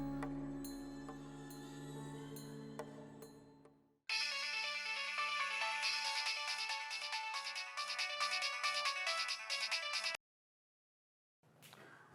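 A phone ringtone plays while a call is being placed: a low tone gives way to a loud, bright, repeating electronic melody that runs for several seconds, stops abruptly, then briefly resumes.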